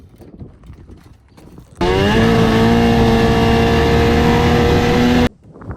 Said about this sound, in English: It just won't rev past 7 grand. It's kind of sputtery too.